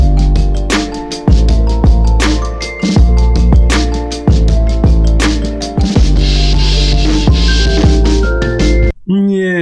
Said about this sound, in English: It's a plucked Celeste sound and it sounds like this